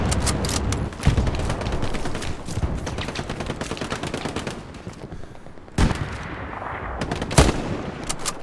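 Fast machine-gun bursts and single rifle shots in a Hell Let Loose battle, loud and close in near-continuous volleys, with a brief lull before sharp reports resume.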